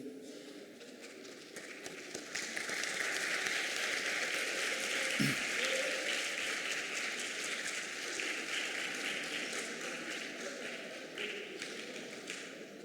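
Audience applause at the closing ceremony of a provincial high school poetry-to-music festival in Maluku, a sustained dense clapping from a large indoor crowd that swells and continues throughout, with faint voices underneath.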